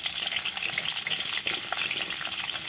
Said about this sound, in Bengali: এইভাবে অল্প অল্প করে নাড়াতে নাড়াতে দেখুন এটা কিন্তু ভাজা হয়ে যাবে